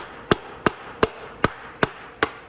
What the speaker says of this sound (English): So I'm just gonna take my mallet and tap it in.